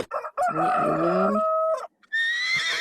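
A rooster sound effect in GarageBand gives a loud, close cock-a-doodle-doo crow, then a short pause and a second sharp rising call, with a brief cluck at the start.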